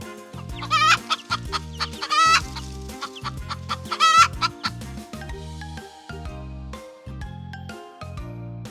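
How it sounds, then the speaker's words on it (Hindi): Chickens cluck in rapid, repeated bursts close to the microphone, with a few louder squawks rising above the steady clucking and no speech. "मुर्गियां क्लक क्लक की आवाज निकालती हैं।"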